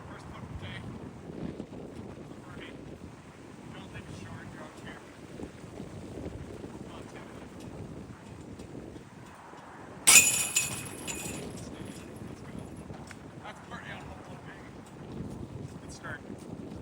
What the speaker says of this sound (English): There's a lot of wind out here today